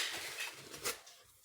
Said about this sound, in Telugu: మనమైతే ఇప్పుడైతే స్పూన్ తోటి అయితే స్ప్రెడ్ చేయబోతున్నా